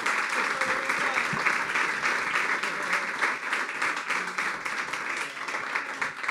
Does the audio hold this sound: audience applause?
yes